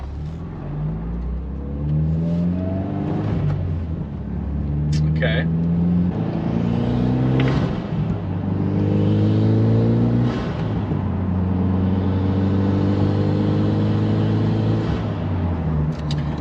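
A car pulls away and accelerates through several gears, engine climbing in pitch, dropping at each shift and rising again, close and steady, with a brief spoken word near the start.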